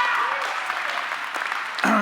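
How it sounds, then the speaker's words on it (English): A graduation audience claps for a 2020 graduate in a continuous even burst of applause lasting the whole moment, with a voice starting just at the end. "give a round of applause for Alva"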